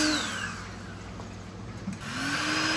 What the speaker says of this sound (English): Sounds like a vacuum.